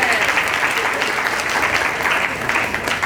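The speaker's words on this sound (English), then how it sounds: "Everybody give a round of applause for Pastor for making this happen." A crowd at a church crusade applauds for the pastor, a dense, loud, continuous round of clapping that lasts the whole stretch, with murmured voices mixed in.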